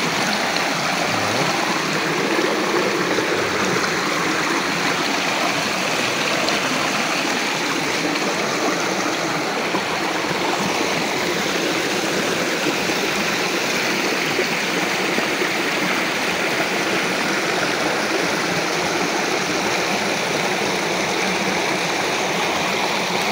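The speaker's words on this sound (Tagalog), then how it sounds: "Ito yung pinaka last ng waterfalls" Waterfall at Nangoloan Anghalo Falls, a steady, dense rush of falling water heard close and loud throughout, with no voices.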